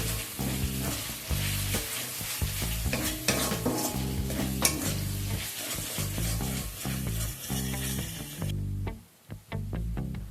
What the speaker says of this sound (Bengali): এবার আদা রসুনটাকেও অল্প সময় নিয়ে ভেজে নেব।